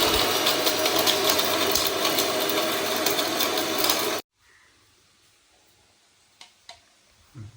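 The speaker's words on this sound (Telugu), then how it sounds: "మసాలాలని మిక్సీలో వేసి ఒక పిక్చర్ అయితే తిప్పేద్దామండి" A kitchen mixer grinder runs loud and steady, grinding spices for chicken pickle, then cuts off abruptly, leaving a quiet room with a few faint clicks.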